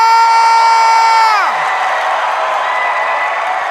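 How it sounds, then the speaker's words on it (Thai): A studio audience at a singing competition game show breaks into applause and cheering just as a sustained musical tone cuts off, leaving a broad, steady roar of clapping and crowd noise. "ขอเสียงปรบมือกับคุณแพวน้ำพึ่งนัทริกา"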